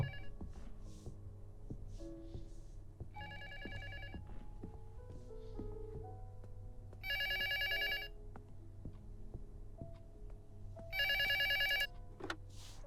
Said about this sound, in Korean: 내려가서 전화 받아봅시다.